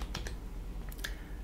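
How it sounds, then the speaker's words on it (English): A few soft key presses on a non-QWERTY AZERTY computer keyboard, faint scattered clicks against a steady background hum. "So you can type here to test."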